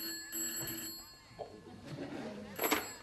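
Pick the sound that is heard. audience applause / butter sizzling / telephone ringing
telephone ringing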